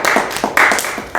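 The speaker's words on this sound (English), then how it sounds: "One more round of applause for Poser." Audience applause at a university theatre festival performance night, a brief burst of dense hand clapping with a couple of surges, loud and close, alone without talk.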